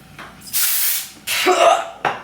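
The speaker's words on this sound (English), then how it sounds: "I blast them with texture spray" Texture spray hisses from an aerosol can onto hair bangs in two long bursts and a short third one, close and loud with brief pauses between.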